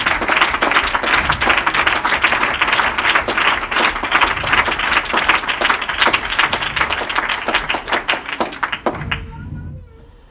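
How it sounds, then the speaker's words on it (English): A church congregation claps along in a dense, steady burst of hands for about nine seconds, close and loud, then the clapping stops abruptly into near quiet. "Let's clap our hands one more time."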